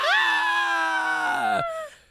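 A person gives a loud, sustained mock scream about two seconds long, playfully imitating the horror film Scream; the cry rises sharply, holds steady and then drops off at the end.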